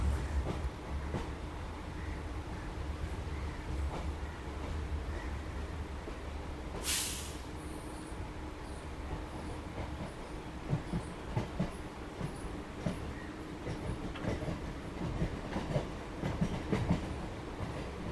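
A Kolkata Circular Railway train runs with a steady rumble and rattle of the carriages throughout, heard from on board, with one brief hiss partway through.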